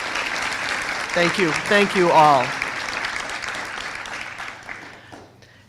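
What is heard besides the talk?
graduates applauding their supporters at commencement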